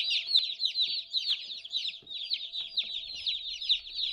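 Dense, continuous high-pitched peeping from a group of young meat-breed chicks, chirps overlapping rapidly and steadily throughout, fairly close.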